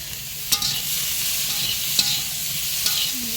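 Spices and turmeric sautéing in a pan in a home kitchen, a soft, steady sizzle broken by a few sharp scrapes or taps of a stirring utensil, close by and without voices.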